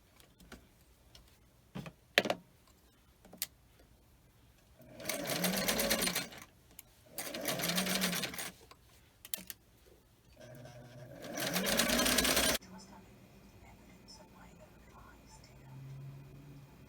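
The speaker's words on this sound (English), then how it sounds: "So I will machine stitch the shoulder seams" A sewing machine stitches the shoulder seams of a Regency-style shift in three bursts of a few seconds each, with soft handling noises and quiet clicks between runs.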